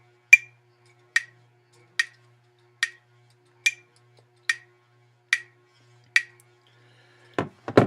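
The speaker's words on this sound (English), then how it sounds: "set your handy dandy metronome to the new tempo and it will sound something like this" A metronome set to 72 beats per minute clicks nine times at an even pace, each tick sharp, bright and isolated against silence, followed by a brief rustle at the end.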